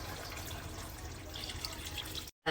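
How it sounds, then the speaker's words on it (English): Five cups of water poured into a cooking pot, a steady close splashing and trickling stream that runs for a couple of seconds before cutting off abruptly. "Adding in 5 cups of water."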